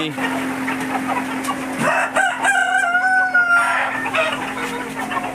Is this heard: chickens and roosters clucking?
yes